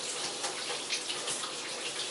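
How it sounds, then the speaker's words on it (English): Tap water runs steadily from a faucet into a sink during handwashing, a continuous broadband splashing rush at moderate level with no talk over it. "I'm gonna need to wash my hands."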